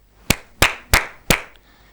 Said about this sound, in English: I had clapped my hands